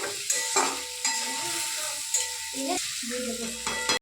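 Potatoes and spices sizzle in a pan while a spoon stirs them, giving a steady frying hiss with repeated scraping stirs and a faint voice now and then.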